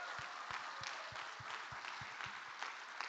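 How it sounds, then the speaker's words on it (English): Applause at the Adopting Bitcoin Cape Town 2024 conference, a soft, distant wash of clapping from the audience with a few distinct nearby claps punctuating it at a steady rhythm. "Please give yourself all a big round of applause for being here."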